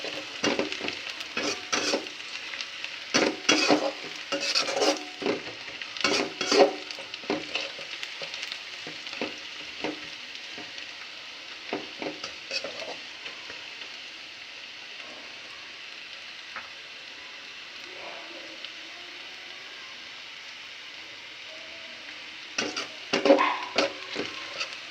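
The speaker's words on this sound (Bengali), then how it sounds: "আমার পেঁয়াজটা কিন্তু ভেজে নেওয়া হয়ে গেছে" Onions frying in a pan give a soft, steady sizzle with clusters of spatula scrapes and clatter early on and again near the end, moderately faint and without voices.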